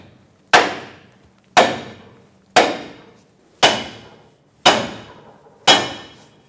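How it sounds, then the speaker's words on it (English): Six evenly spaced, loud metallic hammer blows ring out against the steering knuckle of a 2003-2009 Dodge Ram 2500 during a lower ball joint replacement, each strike decaying before the next, with no talking. "Hit the knuckle with a hammer here and here."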